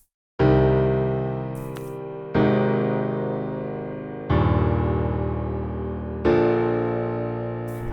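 Four sustained synth chords, each struck and held for about two seconds, slowly fading before the next one begins.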